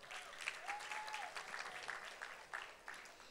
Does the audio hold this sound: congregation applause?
yes